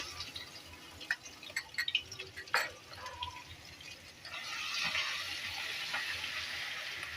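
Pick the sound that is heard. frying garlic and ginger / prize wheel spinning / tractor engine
frying garlic and ginger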